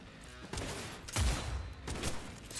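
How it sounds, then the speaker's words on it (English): Gunfire in the video game Cyberpunk 2077, fired through walls during an indoor fight: a burst of loud shots near the start, a heavier blast at about the midpoint, then more scattered shots, with no talking. "I can shoot through walls."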